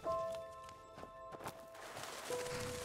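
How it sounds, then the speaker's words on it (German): Soft clip-clop of horse hooves in the video game Skyrim: Enderal, uneven thuds mixed with game sound effects and a lingering tone, fairly quiet and close. "Pferde? Kann ich Pferde reiten?"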